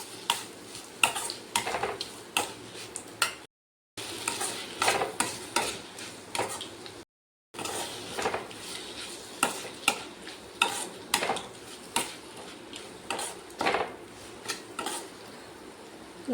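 Mango rice is stirred and sautéed in a pan, producing repeated scraping and clattering strokes of a spoon against the pan over a low sizzle, near and rhythmic, with two short breaks and no talking.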